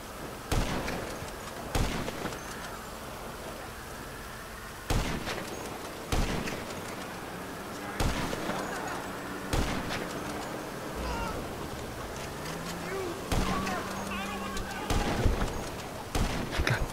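Repeated sharp sniper rifle cracks in the video game Jackass Planes, about ten irregularly spaced loud shots over a busy game soundscape, with occasional faint talk.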